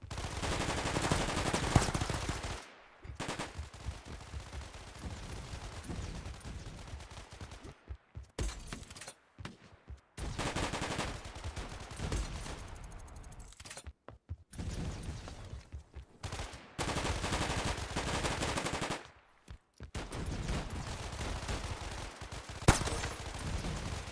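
Rapid bursts of SMG fire from the video game Shatter Rush, loud and near, with several long strings broken by brief silent gaps between volleys.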